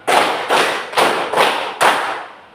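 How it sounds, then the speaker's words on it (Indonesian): A group of people claps in unison during a classroom coaching session: five sharp, loud collective claps spaced evenly about half a second apart, each with a brief decaying tail, and no talking. "Aku ulangi, tepuk 1, tepuk 3, tepuk 5."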